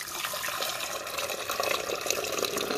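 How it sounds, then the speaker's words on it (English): Water pours continuously into the reservoir of a Cuisinart DCC-3200 coffee maker, a steady splashing rush with a slight gurgle throughout. "We're going to dump fresh water back here"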